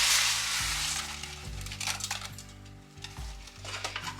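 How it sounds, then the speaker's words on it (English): Dry pasta tumbling into a pot of milky liquid at a rolling boil for shrimp scampi, a hiss of bubbling with clinks and stirring scrapes of the utensil against the pot, steady and close with no talking. "now that our mixture is boiling, we are going to add the pasta."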